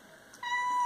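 A single short, plaintive cat meow, fairly close, rising out of a quiet room.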